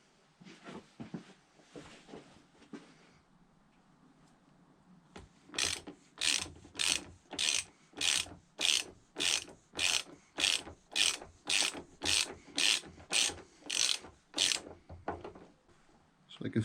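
A ratchet wrench turns a nut to draw together the headstock bearings of a Triumph Speed Triple motorcycle. About seventeen loud, evenly spaced ratcheting strokes follow a few seconds of quieter talk and handling.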